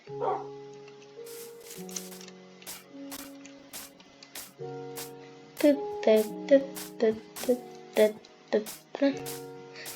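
A Minecraft dog barks in a quick series of short yaps over game music with sustained tones, the barks close and fairly loud.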